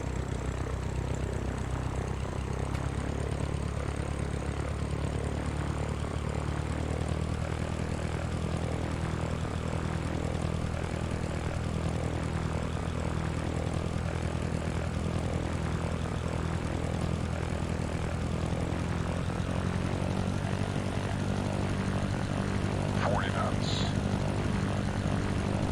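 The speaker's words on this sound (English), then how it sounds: "Cleared for takeoff, runway 4, Cessna 72 Lima" A Cessna propeller plane in the Sierra Pro Pilot flight simulator takes off from runway 4 at Peoria International. The engine drones loud and steady for the whole stretch as a continuous buzzing roar.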